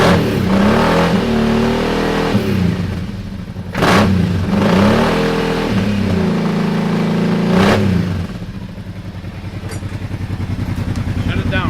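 Kawasaki Teryx side-by-side with an aftermarket exhaust, its engine revved in several loud blips over a rumbling idle, heard up close, then settling back to a steady idle.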